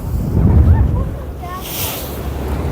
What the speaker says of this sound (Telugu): ఇక్కడ ఫుల్ గాలి వస్తుంది అనమాట.